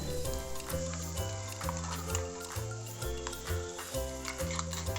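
Ground spice paste sizzles in a pan for Kerala chickpea curry, a moderate steady frying hiss with light stirring, while a rhythmic low melodic background tune plays throughout.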